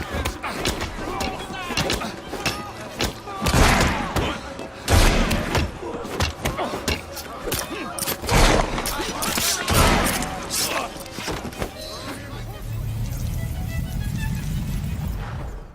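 A burst of gunfire in Assassin's Creed Syndicate: sharp cracks and thumping shots in quick irregular succession amid scuffling and impacts, with voices speaking during the fight.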